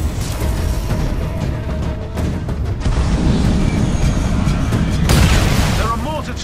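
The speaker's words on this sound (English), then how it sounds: "There are mortar titans launching rockets at the harvester." Mortar titans launch rockets at the harvester during a Titanfall 2 Frontier Defense match, heard as a continuous barrage of booms and rumbling blasts with a louder burst near the end, mixed with dense game noise.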